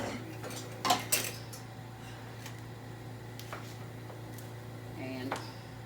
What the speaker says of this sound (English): I've been stirring this and it is really getting heavy for me.